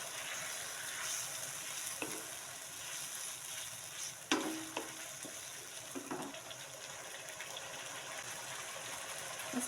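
Spoonful-by-spoonful stirring of a home-cooked dish seasoned with stock powder, sugar, bay leaves and lime leaves, with a few distinct scraping clinks of the spoon in the pan over a steady soft sizzle.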